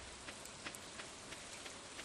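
Rain falls steadily in the video game Stardew Valley, a soft, continuous patter with scattered louder drops, all at a faint, even level and with no voices over it.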